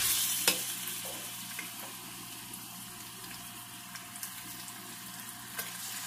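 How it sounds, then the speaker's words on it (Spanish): Chicken pieces frying in a hot pot, giving a soft, steady sizzle with occasional light crackles and pops, fairly faint and close, with no talking. "Acá tengo la olla caliente, le vamos a poner el pollo"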